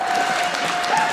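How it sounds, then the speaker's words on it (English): Dense, steady clapping from an audience at a Conservative leadership debate, a continuous wash of applause with no pauses. "I'll allow the applause because it's for Paul Brandt"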